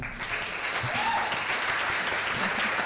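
A studio audience applauds warmly and steadily, a dense, continuous patter of many hands clapping at a podcast taping on nutrition and mental health, sustained at full level for about three seconds with no voices over it.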